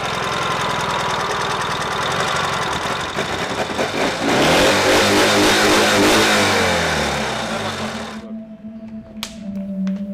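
A Ural motorcycle engine running, a loud close rough knocking rumble that rises as it revs, then drops back to a lower idle before cutting off, leaving faint ticks.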